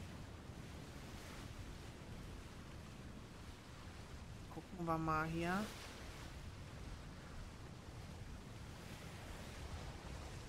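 A raft in Atlas runs downwind under sail with a steady wash of wind and waves throughout. Someone speaks briefly partway through, over the constant surf.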